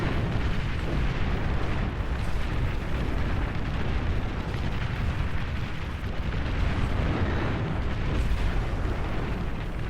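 Dense, continuous rumble of artillery fire and explosions from the real-time strategy game Beyond All Reason, overlapping booms blending into a steady loud roar with no pauses.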